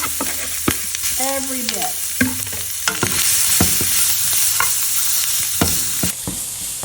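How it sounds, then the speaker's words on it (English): Seasoned shrimp sautéing in a pan with garlic sizzle steadily, with scattered clinks and scrapes of stirring and a brief spoken phrase near the start. "I saute my garlic really good. Now I'm going to add my seasoned shrimp."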